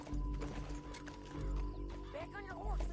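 Horse hooves pound rhythmically at a gallop in a video game, low thudding beats under game music, with a whinny and a voice speaking.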